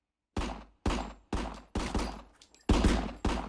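Gunshots in the video game RICO, about seven loud, close blasts fired one after another at a steady, roughly half-second rhythm, each with a short decaying tail.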